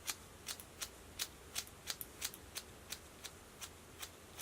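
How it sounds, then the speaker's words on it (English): Scissors snip through grown-out, bowed hair during a home haircut, cutting straight up to level it: a steady series of about a dozen crisp, close snips at an even rhythm, with no talking. "So I'm just going to be cutting straight up into that."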